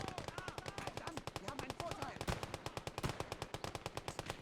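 Rapid machine gun fire in the WWII strategy game Gates of Hell, a steady stream of sharp, evenly spaced bursts carrying on throughout, loud and close, with faint voices mixed underneath.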